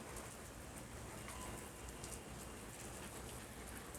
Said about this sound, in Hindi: अचानक ही बारिश शुरू हो गई